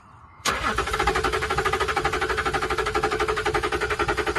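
Abandoned Range Rover with a newly replaced filter being cranked: a click, then a loud, close starter churning in a steady pulsing rhythm that never catches.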